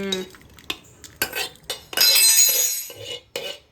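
Pots, pans and cutlery clatter and clink in a home kitchen while dried-fish curry (karuvadu kuzhambu) is cooked, with sharp scattered knocks and a longer burst of rattling metal, close and fairly loud, with no talking.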